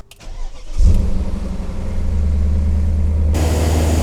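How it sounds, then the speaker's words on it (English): A BMW car engine cranks and fires up after a thermostat replacement, then settles into a loud, steady idle that swells into a fuller, rougher hum near the end, close to the microphone. "Filled it up until the cold mark to start the car."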